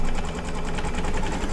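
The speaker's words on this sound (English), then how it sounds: "So let's do some satin stitches. Hopefully a lovely zigzag." An embroidery machine sews satin stitches in a rapid, even mechanical chatter, the needle pulsing steadily and close throughout the short stretch.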